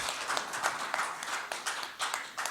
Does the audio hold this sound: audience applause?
yes